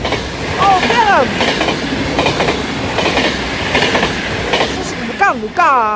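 A DDZ double-deck passenger train passes at Sint Joost, with loud rhythmic clickety-clack of wheels over rail joints and squealing wheel tones, heard close and strong.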